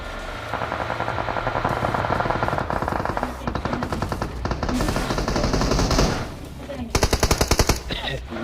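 Automatic gunfire in the mobile battle royale game BGMI near a tank area, long rapid bursts rattling continuously, then sharper louder volleys toward the end.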